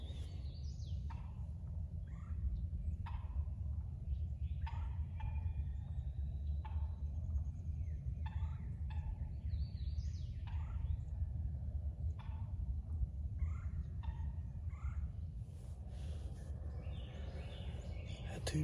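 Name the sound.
wild turkey jakes gobbling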